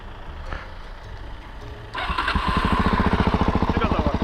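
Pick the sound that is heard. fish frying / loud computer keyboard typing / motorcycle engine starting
motorcycle engine starting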